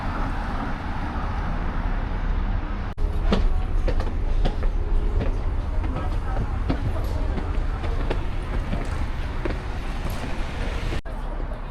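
A train rumbles steadily around Liziba station in Chongqing, a continuous loud rolling roar with faint clacks, while a voice talks over it throughout.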